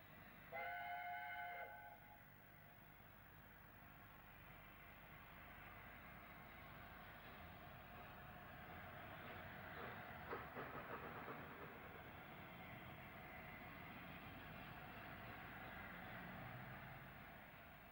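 A train whistle sounds for a moment at the start, then a steady, heavy rumble of steam locomotive 60009 Union of South Africa and its cars continues throughout, in 1994 on a UK main line.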